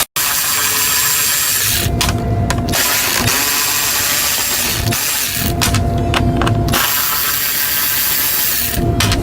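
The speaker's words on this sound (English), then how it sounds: "Remove the 3 8mm bolts that are holding the top of the airbox in." A ratchet or power driver removes the 8mm bolts from the top of a stock airbox during a Hellcat cold air intake install, giving loud close whirring bursts with brief pauses between them.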